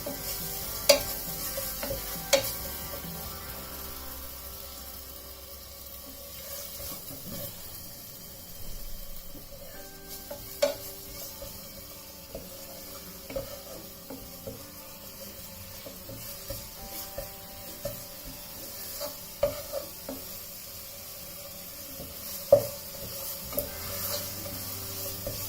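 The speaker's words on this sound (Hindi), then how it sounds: "अब हम इसमें अदरक, मिर्च और लहसुन का पेस्ट डालेंगे। और इसे अच्छी तरह से भूनेंगे" Ginger, chilli and garlic paste sautéing in a pan for Hyderabadi lukmi, a soft steady sizzle with scattered scrapes and taps of a stirring spoon, fairly quiet and close, with no talking.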